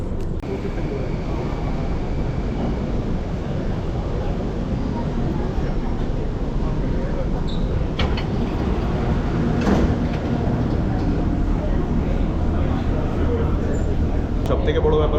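A Singapore MRT train pulling into a station, a steady loud rumble with station noise and faint voices, and a few sharp mechanical clicks.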